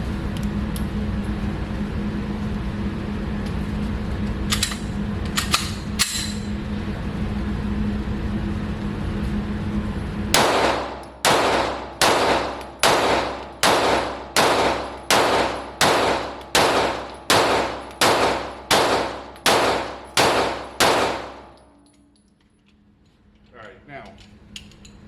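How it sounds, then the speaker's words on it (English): A gun fitted with a laser and red dot sight fires about fifteen loud, sharp shots in a steady rapid rhythm outdoors, after a stretch of background noise and a few clinks, then falls quiet. "We're gonna run some rounds downrange"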